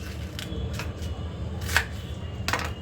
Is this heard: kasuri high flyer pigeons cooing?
no